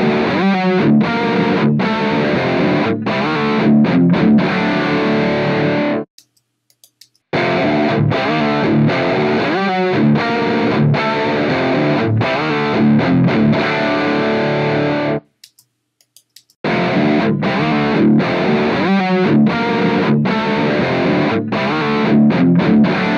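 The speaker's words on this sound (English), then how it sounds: "copy up the dry guitar track to play back through the plugin" A heavily distorted electric guitar, played back through the ReValver ACT Combo amp plugin, plays loud, driving chugged chords up close, stopping briefly twice before resuming.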